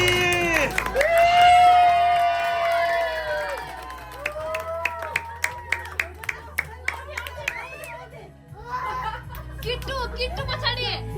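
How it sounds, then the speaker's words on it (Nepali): A gathered family crowd at a parents' 50th wedding anniversary claps in a rhythmic run of evenly spaced claps, mixed with cheering, laughter and chatter nearby. "ताली!"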